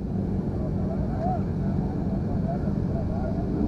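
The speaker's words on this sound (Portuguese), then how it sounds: "Gostei do barulho do motor dessa." Yamaha XT660 motorcycle engine running at a kart track during a riding course, a steady loud droning rumble that continues throughout, with no clear revving peaks.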